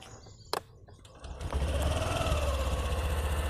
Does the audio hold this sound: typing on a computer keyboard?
no